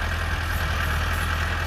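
A Massey Ferguson MF385 tractor engine runs under load with a loud, steady low diesel drone that holds even and unbroken throughout.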